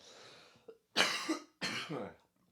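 Three harsh coughs close by, a small one followed by two strong, rough bursts with short pauses between them.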